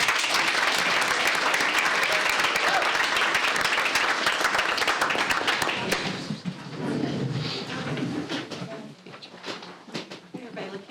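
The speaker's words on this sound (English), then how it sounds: "just let's give them another round of applause." Round of applause at a school board meeting, dense clapping from a roomful of people that fades after several seconds into scattered claps and murmuring voices.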